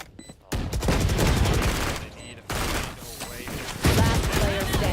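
Gunfire from a collegiate esports shooter match, with a burst of loud rapid shots, a brief gap, then more sustained firing and blasts over busy game sound.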